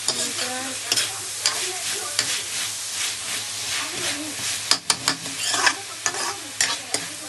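Vegetables for fried rice in red chili sauce are stirred and tossed in a hot pan, sizzling steadily under scraping and clanking spatula strokes that grow more frequent toward the end, with some talk in the background.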